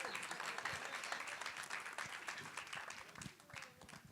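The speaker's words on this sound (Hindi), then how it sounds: "मनीषा जी के लिए एक बार तालियां।" Audience at a Bollywood trailer launch event applauding steadily, a dense wash of clapping with some crowd noise, fairly loud throughout and tapering slightly near the end.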